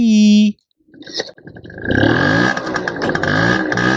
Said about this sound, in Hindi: ये स्कूटर की साउंड अच्छी है। जाने वाली साउंड अच्छी।